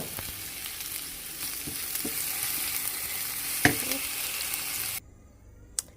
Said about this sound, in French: Ensuite on fait revenir les oignons sur la même poêle.